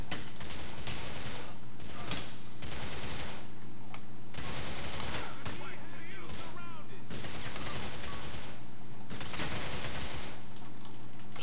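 Dense, loud gunfire from Grand Theft Auto IV, with sustained bursts of shots repeating in waves and brief lulls between them, under occasional talk from a player.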